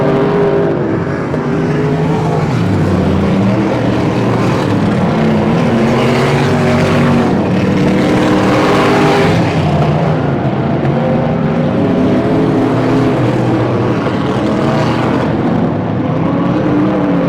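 Stock cars race around a dirt track at the Pearsonville, California Turkey Classic, engines droning loudly with rising and falling pitch as cars pass, a continuous layered roar of several motors.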